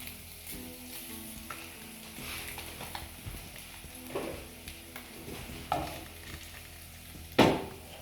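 Sausages and onions fry slowly in a pan with a soft, steady sizzle, broken by a few louder clatters and scrapes as the food is stirred or moved.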